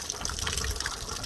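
Water gushes from a hose into a camper van's water tank, a short steady churning rush with gurgling as air fights inside the tank.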